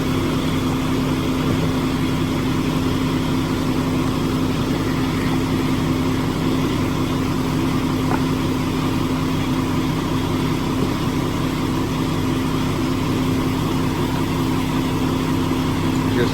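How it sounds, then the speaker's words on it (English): A loud, steady truck engine idles nearby, heard from inside the truck, a constant low rumble with a droning hum that never lets up. "Sorry it's so loud in here because the truck's running"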